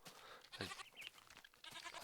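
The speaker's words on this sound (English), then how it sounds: "these little beasts here, these goats, they ate half my stuff" Goats bleating in the Minecraft video game, several short nasal bleats in quick succession, moderately close, with no one talking over them.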